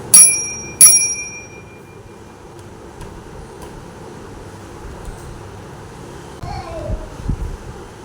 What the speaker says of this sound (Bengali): আবার বেল বাজা, বেল বেল বাজাও